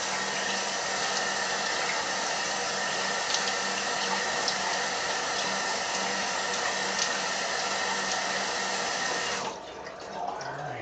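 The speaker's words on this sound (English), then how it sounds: "gonna rinse a little bit" Tap water runs steadily for rinsing during an early-morning shave, a close, even hiss with a faint hum beneath, cutting off near the end; no talking.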